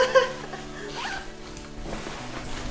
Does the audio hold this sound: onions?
no